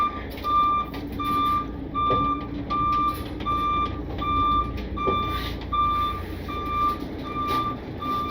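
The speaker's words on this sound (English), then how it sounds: "Backup alarm? Beeps, yeah." A truck's reversing alarm, heard at an equipment auction, beeps in a steady, evenly spaced series, loud and close over the low rumble of the running engine, with no voices.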